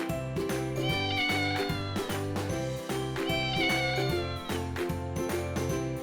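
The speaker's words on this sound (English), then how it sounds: "cat." Repeated drawn-out meows from a domestic cat, rising and falling, heard close and steady over about six seconds with no speech.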